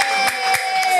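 Studio audience at a digital-literacy podcast taping claps and cheers, a dense burst of applause with a few sharper whoops, fairly close and filling the whole short moment.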